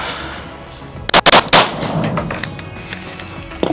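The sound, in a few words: Glock 47 pistol gunshots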